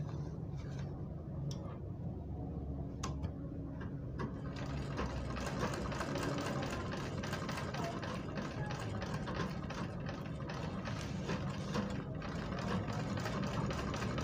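Sewing machine stitching a curved fourth line in a basic machine-sewing lesson, a fast, steady mechanical whirring chatter, close and continuous, starting quieter and building to full speed with no talking.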